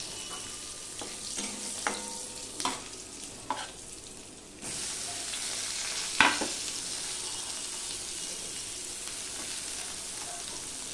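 Green chilli and a large chopped onion go into hot oil with ash gourd, a moderate sizzle with a few stirring knocks that swells into a louder, fuller hiss partway through, with no voices.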